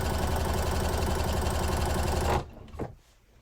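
A sewing machine stitches thrifted scarf fabric in a loud steady run, then stops abruptly, followed by a brief faint clunk.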